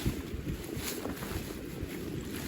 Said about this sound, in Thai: ได้ยินเสียงลมป่ะคะ